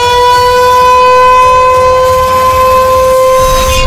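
A steady, loud civil defense siren wails on a sustained tone during a mock drill, filling the whole stretch without pause.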